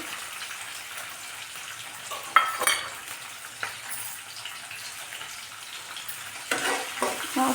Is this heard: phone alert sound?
no